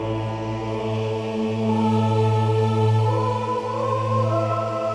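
A big sustained synth patch from a MainStage keyboard rig, built from a D70 synthesized choir layered with other tones, holding one dense, steady chord for several seconds with no pauses.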